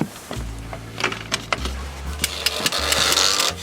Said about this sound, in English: you can stick your winch handle in there and grind with that winch handle